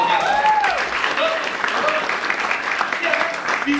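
A crowd applauding loudly in a hall for a few seconds, dense clapping mixed with scattered cheering voices and whoops.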